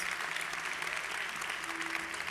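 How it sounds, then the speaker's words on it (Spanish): A church congregation applauds through a sermon break, a steady wash of many hands clapping at moderate level, slightly distant, with a faint voice or tone surfacing briefly near the end. "si va a aplaudir, hágalo con ganas"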